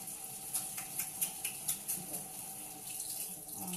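Water runs steadily from a kitchen tap for a few seconds, a soft continuous hiss and splash with faint ripples, heard alone at moderate distance.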